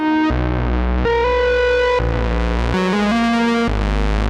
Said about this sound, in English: to more in-your-face solos with a low end